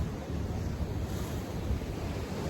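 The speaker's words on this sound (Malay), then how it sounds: "Kalau tengok pada ombak tu dengan laut ni, tak wani kita nak mandi ni" Ocean waves rolling in at Clovelly Beach, Sydney, a steady low surf wash mixed with gusty wind buffeting the microphone, with no voices.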